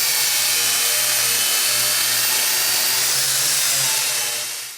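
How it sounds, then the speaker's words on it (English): A wire wheel on a power tool scrubs welded seams on a Nissan S13 drift car chassis, a loud continuous whirring grind close by that winds down at the end. "just going around all these seams with this wire wheel"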